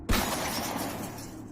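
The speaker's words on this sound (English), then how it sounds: "which shattered in a sudden spray of shards." A glass window shatters from a gunshot, a sudden sharp crash followed by a bright spray of falling shards that rings on and slowly fades, heard alone.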